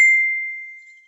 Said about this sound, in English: My phone's not going to stop tonight.